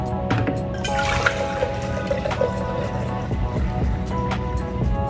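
White vinegar for pickled onions pours in a continuous gurgling stream, close and steady for several seconds, with a faint hum running beneath it.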